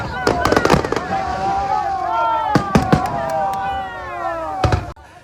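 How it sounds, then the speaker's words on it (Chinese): Fireworks bursting over the sea at night during a Keelung Ghost Festival water lantern release at Badouzi, with sharp repeated cracks and booms in clusters, whistling streaks between them and crowd murmur underneath. "伴随着烟火点亮八斗子的夜空"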